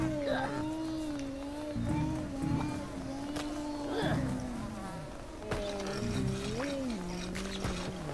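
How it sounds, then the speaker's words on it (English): Bees in the video game Oddworld New 'n' Tasty give off a steady, droning buzz that wavers in pitch, mixed with other game sounds throughout. "Bees, why are there bees over there?"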